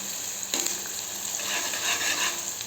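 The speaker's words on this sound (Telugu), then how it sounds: "మంచిగా ఫ్రై అవుతున్నాయి" Food fries loudly in hot oil in a pan for a curry, a dense continuous sizzle with a brief stirring scrape near the start, close and with no talking.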